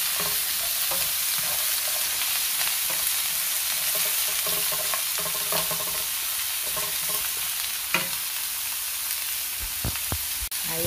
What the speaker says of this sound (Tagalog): Gisa na natin yung ampalaya.